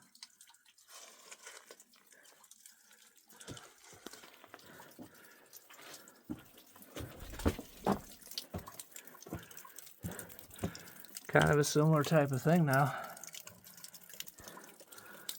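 Meltwater dripping from icicles hanging from snowy bluffs, scattered irregular drips and trickles at close range, with someone talking intermittently over them.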